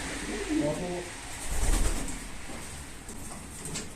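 Homing pigeon cooing close by, soft low coos around the first second and again near the middle, mixed with rustling and people talking.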